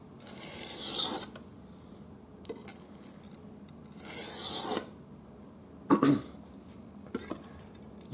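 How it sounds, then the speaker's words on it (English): A kitchen chef's knife scrapes across a whetstone in two long, loud rasping strokes, separated by quieter pauses and a few shorter scrapes and light knocks. "With every time you slide it, there should be metal removed and sharpening happening."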